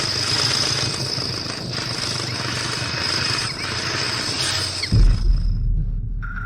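Loud, continuous jackhammer-like drilling rumbles steadily for about five seconds, then cuts off and leaves a low thud and a lingering rumble.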